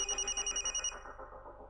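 A telephone rings in a tense indoor drama scene: a rapid electronic trill pulsing about eight times, fairly loud and close, then cutting off into quiet room noise.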